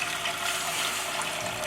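Plain water or stock pours steadily into a pan of honey sesame sauce, a continuous close rushing splash with no talking.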